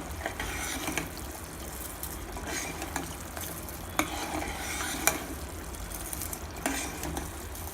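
Rock sugar being stirred into half a tumbler of water in a pan on the stove, heard as a steady soft scraping and sizzling simmer with a few sharper clinks of the spoon against the pan.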